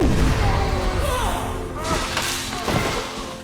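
A heavy explosion from a sci-fi action movie, deep booming thuds and crashing debris swelling and rolling, with a narrating voice over it.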